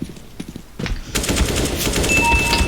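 AK-47 rifle fire in a video game: a few quiet knocks come first, then a loud, dense, sustained burst of rapid automatic shots carries on without a break to the end.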